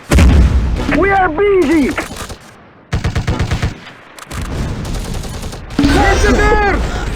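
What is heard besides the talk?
gunfire in the Close Combat video game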